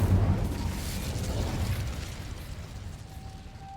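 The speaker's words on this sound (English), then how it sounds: "Incendio." An Incendio fire spell from Hogwarts Legacy erupts in a loud whooshing burst that trails off into a roaring rumble, then fades under a thin lingering tone.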